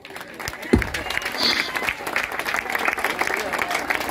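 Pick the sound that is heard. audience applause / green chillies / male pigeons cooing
audience applause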